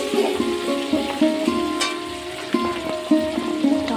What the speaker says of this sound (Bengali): প্রথমে চিংড়ি মাছটা ভাজা করে নিচ্ছি